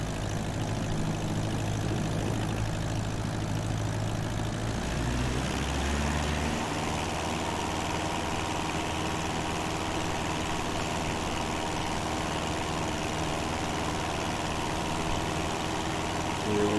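A Cessna 172 in flight, its propeller engine droning as a steady, loud, low hum that fills the cabin without a break, with a slight shift in tone partway through.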